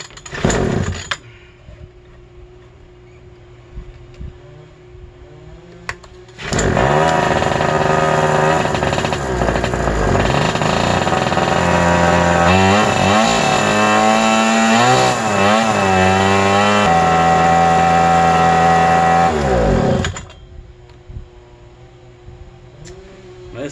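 A small single-cylinder engine on a tent-washing rig catches after priming and choke, then runs loud and close for about fourteen seconds with a rough, revving note before cutting off, leaving quiet background sound.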